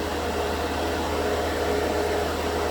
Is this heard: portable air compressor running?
yes